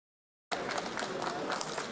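A welcoming crowd at Incheon Airport cheers and applauds an arriving delegation from South Korea's Chungcheong region. The sound starts abruptly as steady, dense clapping mixed with crowd noise, loud and continuous.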